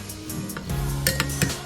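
Oatmeal being stirred in a bowl with boiling water and milk: a spoon scrapes and clinks against the bowl in a few close, quick strokes, with soft liquid sloshing and no talking.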